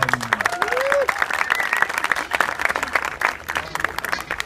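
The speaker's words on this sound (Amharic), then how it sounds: "በሙሉ ለዚህ ለአይዲያስ ትራንስፎርመርሱ ጭብጨባ ይገባቸዋል።" A congregation in the Addis Ababa diocese applauds the Ideas Transformers: loud, sustained clapping from a crowd, with voices and a few whistle-like calls rising over it early on.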